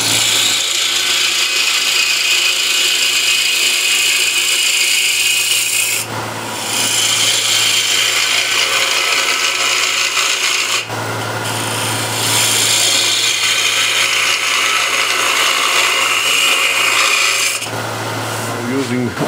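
A ball gouge cuts into a wooden bowl spinning on a lathe, producing a loud continuous rasping scrape over the motor's steady hum, with short breaks where the tool lifts away.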